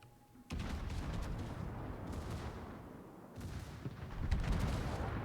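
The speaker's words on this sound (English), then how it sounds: "Return salvo from the Yamato." Battleship Yamato firing a return salvo in World of Warships: a sudden heavy gun blast opens, followed by rolling booms and rumbling reverberation, with a second burst of deep thuds near the end.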